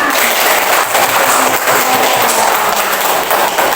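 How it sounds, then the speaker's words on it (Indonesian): Classroom applause for students, a steady wash of many small hands clapping together at close range, sustained and fairly loud without pause. "tepuk tangan untuk semuanya"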